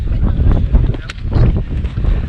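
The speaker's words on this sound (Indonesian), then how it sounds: "Angin sih lumayan ya, cukup terkendali." Steady wind buffets the microphone on the Mount Slamet hiking trail, heading for the summit via Bambangan, a continuous rushing roar throughout with no clear talk.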